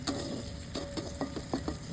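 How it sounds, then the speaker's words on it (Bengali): Onions fry in a pan with a soft continuous sizzle, broken by several quick scraping stirs at a steady rhythm, fairly quiet and close with no voices. "পেঁয়াজগুলো কিন্তু সময় নিয়ে প্রথমে ভালো করে ভাজতে হবে"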